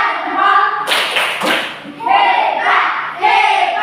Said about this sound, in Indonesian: Mari kita tepuk tangan untuk semua jawaban yang sudah tepuk jempol